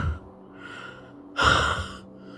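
A person breathes heavily and out of breath, with a low gasping inhale and then a louder, sharper exhale, close and alone without speech.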